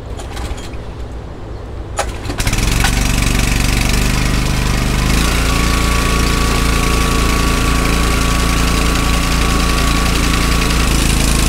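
A crop sprayer's small gas engine roars to life after a brief start-up and then runs steadily and loudly up close, a constant droning rumble that fills the whole stretch.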